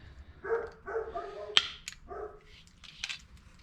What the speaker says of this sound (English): And there goes my dog barking again,